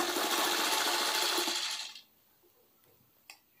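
A sewing machine stitching fabric for a puffed sleeve, running as a loud, fast, continuous whir for about two seconds, then stopping, followed by a couple of faint clicks.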